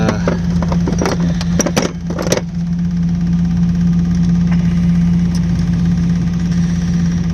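A Perkins 103-10 diesel engine idles in a repowered Cushman Truckster utility vehicle, a loud, steady, close low hum with a few sharp clicks and knocks early on.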